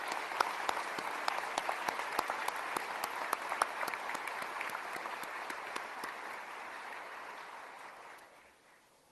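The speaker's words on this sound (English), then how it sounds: "Let's give these families a round of applause." Sustained applause from a large audience at a military leadership ceremony fills the room for about eight seconds, with dense overlapping claps that fade out at the end.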